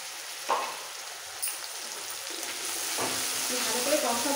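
Spice masala for sambar sizzles and fries in a pan, a soft crackling hiss punctuated by a few light clinks and stirring scrapes close by.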